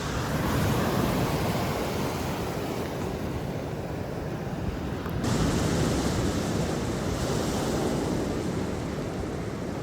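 Ocean surf washes in continuously, a dense roar of breaking waves with wind buffeting the microphone, steady and loud throughout with a slight swell midway.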